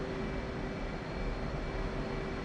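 Aircraft taxiing toward runway 3 right in a DCS flight mission, a steady, even engine roar with a constant whine held throughout, no breaks or changes.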